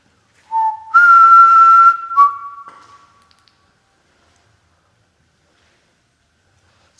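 A person whistles inside a house, a few clear sustained notes, close and fairly loud, that stop after about three seconds and leave near silence.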